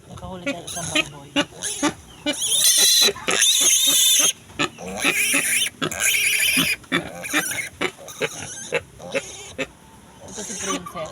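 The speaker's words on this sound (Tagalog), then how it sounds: "Nakahuli tayo ng isang baboy." Pig caught on a farm, grunting and squealing loudly in bursts of shrill high squeals and low grunts, close up, mixed with people talking nearby.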